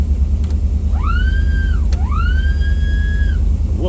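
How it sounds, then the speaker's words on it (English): An under-hood wolf whistle horn on a restored 1958 Ford Fairlane 500 Skyliner retractable with a 312 V8 sounds two rising-and-falling whistle blasts, loud and close, over the steady rumble of the idling engine. "wolf whistle."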